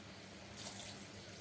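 Water pouring into a cooking pot for basmati rice, a quiet steady splashing stream that swells briefly partway through, heard close with no speech.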